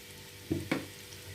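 Faint, steady sizzling of sliced onions frying in a pan, broken by two soft knocks in quick succession.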